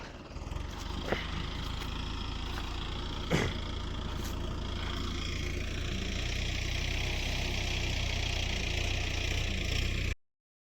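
A medium tractor engine idles at a steady, low drone with faint knocking during field levelling, a couple of brief clanks breaking through, then it cuts off at the end.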